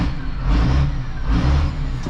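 A John Deere 3690 tractor engine idles and runs steadily nearby, a loud low rumble with slight surges in revving, with no talk over it.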